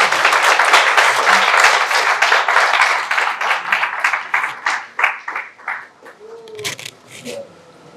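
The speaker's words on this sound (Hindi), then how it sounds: "तालियां भी इतनी बड़ी होनी चाहिए।" Audience applause fills a book launch ceremony, loud dense clapping at first that thins into scattered claps and fades, with a voice briefly heard near the end.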